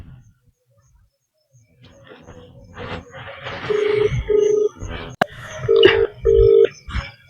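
A repeating electronic ringtone with several steady beeps, fairly loud, over background chatter and rustling.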